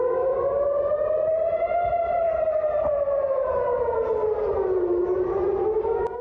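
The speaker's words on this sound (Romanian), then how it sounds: "Sirenele de raid aerian au sunat la Tel Aviv." Air raid sirens wail over Tel Aviv, a loud, continuous rising and falling tone that carries alone through the whole stretch without any speech.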